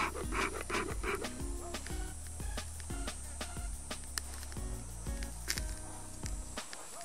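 Bellows of a bee smoker being pumped to fan a fire of wood chips and old dark honeycomb: rapid rhythmic puffs of air, repeated steadily, close and fairly quiet, with no talking.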